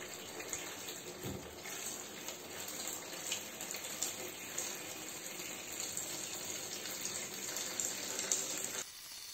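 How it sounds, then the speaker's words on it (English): Dead water runs out of a reverse osmosis tank after air has been pumped in, making a continuous hissing, splashing flow close by that keeps going for about nine seconds before cutting off abruptly. "after pumping a bit of air into the tank, you have the dead water flowing out"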